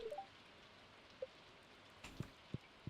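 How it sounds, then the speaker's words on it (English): Steady soft rainfall in Stardew Valley, a faint even hiss with a few light chime-like notes and small taps near the end, no voices. "Because it is raining today"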